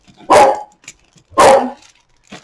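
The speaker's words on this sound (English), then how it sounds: "Oh, and you hear my dog." A dog barks twice, loud and close, the sharp woofs spaced about a second apart, with small yips and rustles trailing between them in an otherwise quiet indoor room.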